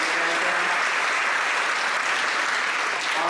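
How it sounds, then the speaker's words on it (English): A brief burst of crowd applause at a San Jose Japantown community gathering, close, loud and continuous clapping with no pause. "Give her a round of applause for that"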